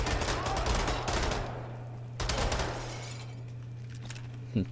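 Dual-wield pistols fire in rapid bursts in the shooter game Wolfenstein: The New Order, with dense gunfire in the first second and a half and again around two seconds, ending in a sharp loud crack.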